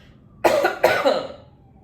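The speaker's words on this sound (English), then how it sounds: "Sorry, I have to cough." Two quick, harsh coughs close to the microphone, one right after the other, then quiet.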